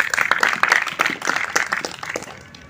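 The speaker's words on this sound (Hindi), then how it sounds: "तालियां" A short round of clapping from a small group of youth scouts at a training session, quick uneven claps that taper off within a few seconds.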